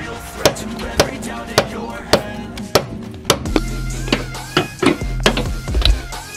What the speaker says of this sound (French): un bon coup de marteau dans la gueule.